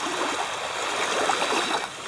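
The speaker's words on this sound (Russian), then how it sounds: "Как я люблю шум прибоя." Surf washing steadily onto a seashore in France, a continuous broadband wash of water with gentle swells in loudness, close by and unaccompanied by voices.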